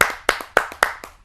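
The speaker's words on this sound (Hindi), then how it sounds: "आप सबकी जोरदार तालियों से आमंत्रित करते हैं मास्टर रामजीलाल वर्मा जी को।" Sparse hand clapping at a kavi sammelan poetry stage show, five or six sharp claps in quick succession that then stop, fairly close and loud.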